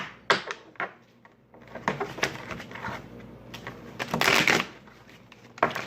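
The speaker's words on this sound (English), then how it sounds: "I'm going to stop talking so I can get these cards shuffled." Tarot cards shuffled close by, with repeated riffles and snaps coming in irregular bursts, one louder longer riffle near the end, and no talking over them.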